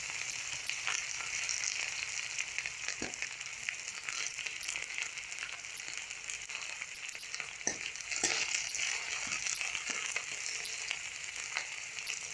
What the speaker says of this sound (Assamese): অকণমান ৰঙাকৈ ভাজি ল'ম পিঁয়াজখিনি